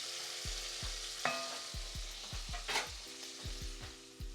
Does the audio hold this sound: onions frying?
yes